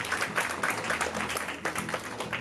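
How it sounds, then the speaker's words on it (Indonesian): Audience applause at an art dialogue event in Central Jakarta, a dense patter of clapping sustained through the moment at moderate level, with faint voices mixed in. "Kita tepuk tangan dulu dong."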